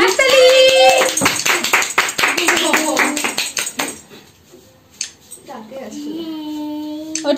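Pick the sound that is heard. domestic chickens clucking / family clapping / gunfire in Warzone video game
family clapping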